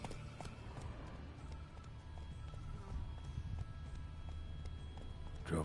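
Roach the horse gallops in The Witcher III, a faint, steady patter of hoofbeats carried over a low background rumble, continuous throughout with no voices.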